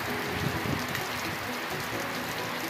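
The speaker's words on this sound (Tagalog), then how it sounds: "malakas na ang ulan guys." Heavy rain pours steadily, a dense close hiss of drops lasting a few seconds, with no talking.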